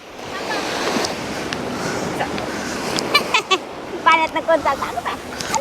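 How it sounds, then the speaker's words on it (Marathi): Steady rushing surf on a beach in Goa fills the clip, with voices breaking in near the end over the constant wash of water. "लाटा नॉर्मल येतात लाटा"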